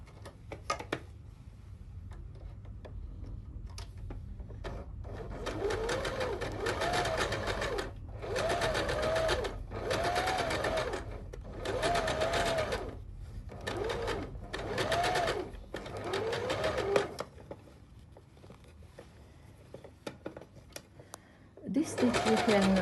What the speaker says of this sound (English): I will do another stitch parallel with this one.